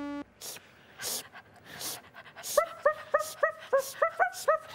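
Dog barks, yips and whimpers are edited into a playful musical sequence, short sharp sounds at first, then a quick rhythmic run of pitched bark-like notes repeating in a bouncy pattern, fairly close and clear.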